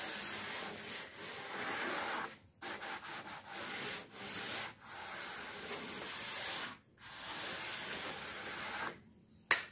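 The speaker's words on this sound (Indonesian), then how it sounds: "Ini mas digosok karena sudah kering, gosok lagi ini mas" Dried body filler on a car's roof gutter is hand-sanded in steady back-and-forth strokes, a close, continuous gritty rasping broken by brief pauses between passes.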